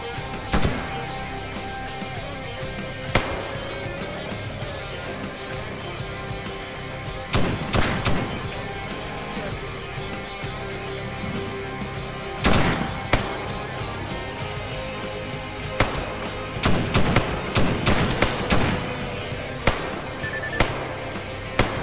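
Gunfire in the video game S.T.A.L.K.E.R. Gamma goes off in scattered sharp cracks, some isolated and some in quick clusters, over a constant hum of background game ambience.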